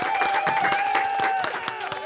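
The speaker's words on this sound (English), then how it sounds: "Everybody here is applauding that" Studio audience applauding, brisk clapping with some cheering, with a sustained voice ringing over the applause.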